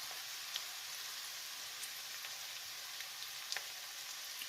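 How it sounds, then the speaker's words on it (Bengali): Three dried red chillies fry in hot oil in a pan alongside lightly browned onion, giving a steady, fairly quiet crackling sizzle with a few sharper pops, heard alone with no talking. "শুকনো মরিচ দিয়ে আমি 1 মিনিটের মতো ভেজে নেব।"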